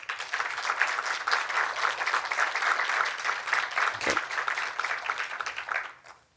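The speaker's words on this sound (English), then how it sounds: "let's give another round of applause to all of our panelists." A panel discussion audience applauds in a full, steady burst of clapping that holds evenly, then tapers and stops at the end.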